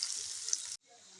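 Garlic ginger paste sizzles in hot oil in a pan for fish masala, a steady bright hiss for most of the moment, then cutting off abruptly into a quieter, softer background.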